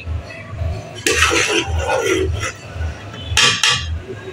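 Spicy pulao is dished out from the pot with metal utensils, bringing a series of close clinks and scrapes against the cookware over a low rumbling hum, with a couple of sharp knocks near the end.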